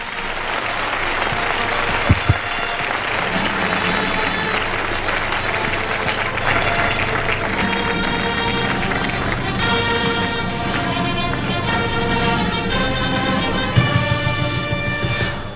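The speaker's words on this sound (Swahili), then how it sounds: "Tupige makofi tafadhali." Steady, loud applause from a large audience at an official event in Kenya, continuing throughout with dense clapping and occasional louder bursts.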